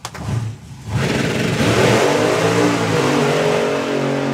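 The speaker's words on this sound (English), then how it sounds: "Dougie blazing the tyres" Drag racing car at a Dragstalgia event blazing its tyres on launch, a loud, sustained roaring engine rev with a harsh wheelspin screech that holds steady for several seconds, close and alone.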